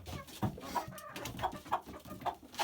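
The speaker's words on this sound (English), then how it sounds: "these three are the original chickens that Teresa gave me, including Lumi in the chicken house" A few chickens cluck softly and intermittently nearby, short calls rising over a quiet background.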